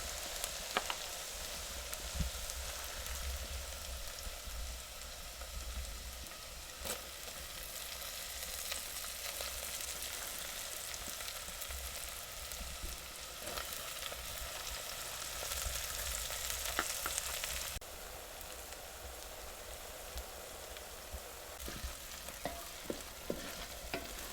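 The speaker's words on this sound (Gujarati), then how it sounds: "હવે જો આપણે ડુંગળી લસણ આદું લીલા મરચાં બહુ સરસ મજાનું સડી ગયું છે" Green onion, garlic, ginger and green chilies frying together in a pan: a soft, continuous sizzle with occasional stirring clicks and scrapes, close and low in level, no one speaking.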